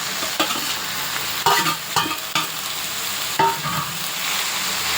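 Chopped spinach fries in a pan for palak dal khichdi, giving a steady close sizzle broken by several sharp scrapes and clatters from stirring.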